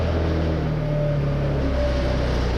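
A Yamaha Vino clone scooter, wrecked and cold, idles steadily just after starting, its small engine droning low and continuous up close with a faint higher whine running through it.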